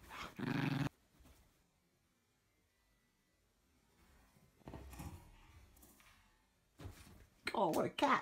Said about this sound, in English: He is so cute, that dog.